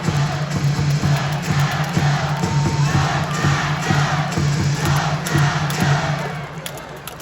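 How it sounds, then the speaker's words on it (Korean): Fans at a Korean baseball game cheer and clap for a player after his on-field interview, a loud, close crowd roar with a steady rhythmic beat of chanting or clappers that eases toward the end. "다시 한번 큰 박수를 부탁드리겠습니다"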